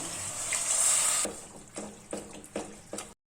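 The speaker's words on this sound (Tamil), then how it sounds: "ரெண்டு டம்ளர் தண்ணி" Water poured into a pressure cooker holding basmati rice and sautéed vegetables, a hissing gush at first, then a few soft splashes and knocks before it stops.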